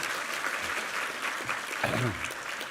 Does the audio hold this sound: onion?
no